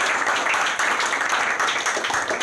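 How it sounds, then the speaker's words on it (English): An audience claps together in a sustained, dense burst of applause, loud and even throughout with no talking over it. "Let's clap for everybody."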